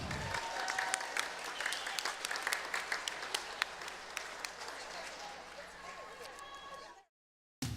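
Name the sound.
audience applause at a swim meet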